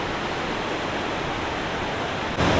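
Waterfall near Tumpak Sewu in East Java, a steady close roar of crashing water that fills the whole clip and swells slightly louder near the end.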